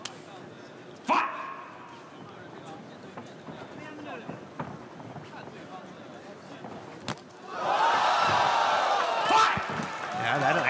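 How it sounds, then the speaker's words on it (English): A kickboxing crowd at a GLORY 57 fight erupts into a loud, broad roar in the final seconds, rising sharply over commentary and lingering to the end. "Big roar from the crowd"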